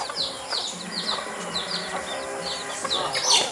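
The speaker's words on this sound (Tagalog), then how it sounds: "Dami yung manok." Native chickens clucking and calling in a farmyard, a dense overlapping flock with repeated short clucks and chirps close by, alongside faint rustling.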